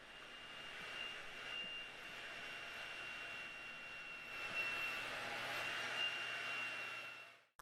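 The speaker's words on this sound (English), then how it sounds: "what I do is blow dry my hair in 1 inch sections" A hair dryer blows hair dry in small sections, its steady whooshing airflow and thin whine running continuously and fairly quietly, swelling slightly midway before cutting off abruptly at the end.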